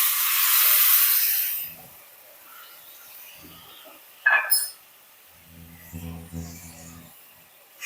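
Water rinsed from a mixer jar is added little by little to a pan of masala gobi (spiced cauliflower), hissing sharply at first and then fading. A brief spitting burst follows, with a faint low murmur near the end.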